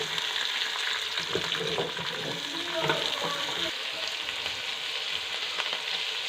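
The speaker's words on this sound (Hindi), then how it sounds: "हमने प्याज़ों को 2 से 4 मिनट तक लगातार भूनना है।" Chopped onions of normal size fry in a pan for a Bhare Hue Chicken Keema Karela dish, giving a steady sizzle with occasional stirring scrapes throughout.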